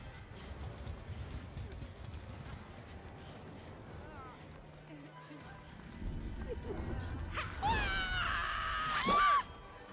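A survivor in the video game Dead by Daylight lets out a loud, wavering scream near the end, rising above game noise after a stretch of quieter ambience and footsteps.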